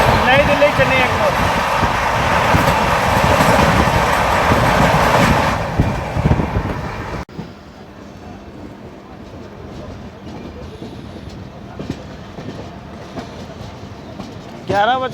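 Grand Trunk Express passenger train, a 96-year-old service, rumbling loudly and steadily on the rails for several seconds before the noise drops abruptly to a quieter low hum with faint clatter, rising again briefly at the end.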